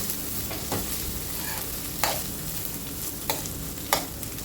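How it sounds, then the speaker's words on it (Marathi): Fish is stirred into masala in a pan, a spoon scraping and knocking against the metal every second or so over a constant close sizzle of frying. "आणि यामध्ये आपल्याला ही मच्छी घालून घ्यायची मिक्स करून घेऊ"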